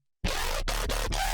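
A synth bass patch run through a dimension expander for added depth, starting abruptly after a brief silence and sustaining as a dense, wide tone broken by short rhythmic gaps, heard alone without any talk.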